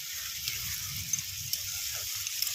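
Ginger goes into a pan of half-cooked bottle gourd, a steady close sizzle and hiss of frying with faint stirring scrapes and no talk.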